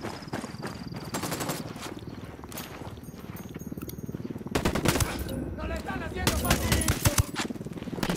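Automatic gunfire against cartel reinforcements in Ghost Recon Wildlands, with rapid rattling bursts and single shots that get louder and denser partway through, under shouted squad voices.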